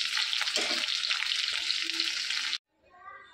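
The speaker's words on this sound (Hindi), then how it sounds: "इसको मैं ऑयल में इसको फ्राई हो जाने देती हूँ" Pieces of jackfruit fry in oil in a kadai with a loud, steady, close sizzle and a few soft stirring bumps. The frying cuts off abruptly near the end, leaving a faint voice.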